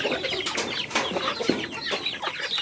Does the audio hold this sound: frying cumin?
no